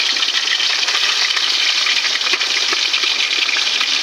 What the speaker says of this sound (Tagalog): Lagyan na natin yung ating isda sa kumukulong mantika.